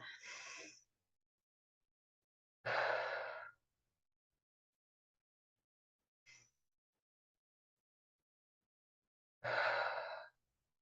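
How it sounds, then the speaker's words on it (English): Two slow, deep breaths, each a long airy inhale and exhale, close and alone in a quiet room, with a faint short breath between them. "So I'm going to take 2 slow, deep breaths."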